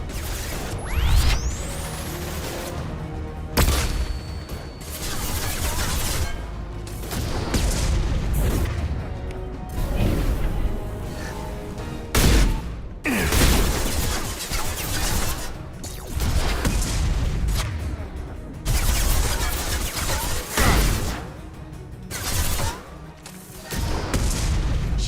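Flashbang grenades and gunfire in a Mass Effect 2 firefight, heard as repeated heavy booms and bursts of shots through a dense, loud battle with ringing debris and scattered sharp cracks.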